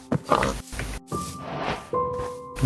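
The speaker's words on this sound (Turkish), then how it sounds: "Bebek domuz var." A baby pig in a video game gives a few short, close oinks and grunts, loud and in quick succession, with no talk over them.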